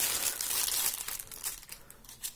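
Disposable plastic parcel bag crinkling as it is opened, a close run of rustling crackles and sharp crinkles that turns more sporadic toward the end.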